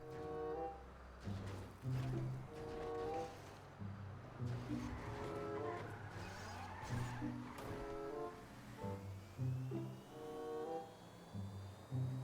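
Obey I-Wagen electric SUV, modeled on the Audi E-Tron, driving in GTA 5, with a humming drive tone that rises and falls as it accelerates, plus occasional tire noise.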